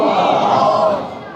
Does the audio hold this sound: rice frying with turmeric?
no